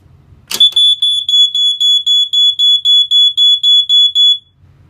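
A First Alert SA88 smoke alarm chirps in a rapid, steady series of about a dozen loud, shrill beeps as its battery is put in, starting right after a brief click.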